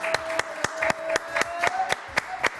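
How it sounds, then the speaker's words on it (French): An audience applauds at a French TV show, with sharp, evenly spaced claps that sound like a few hands close by rather than a full crowd. "Je vous demande aussi d'applaudir très fort mon décor, Isabelle et Manon."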